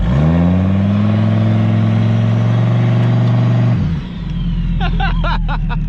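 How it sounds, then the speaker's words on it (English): A 1999 Dodge Ram 2500 4x4 pickup with a turbocharged 8.0L V10 roars at high, steady revs while power braking for several seconds, then drops abruptly to a low rumble as tires churn and slap through mud. "Power brake in the mud."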